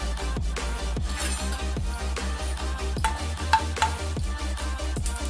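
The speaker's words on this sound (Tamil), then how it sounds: "கடுகு பொரிஞ்சிச்சுங்க" Mustard seeds spluttering in hot oil in a kadai with urad dal and dried chillies, a steady sizzle broken by sharp irregular pops and crackles, close up, without speech.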